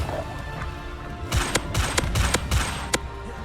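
Explosive bursts from the Bombarda spell in Hogwarts Legacy: a rapid series of sharp booming blasts, about seven in two seconds, loud and close, with no voices.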